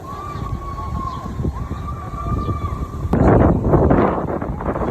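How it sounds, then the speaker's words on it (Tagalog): Gusty wind buffets the microphone in low rumbling bursts on a condominium lounge floor in Mandaluyong, growing stronger partway through, with a thin siren-like tone wailing in the background. "Mas ang hangin guys"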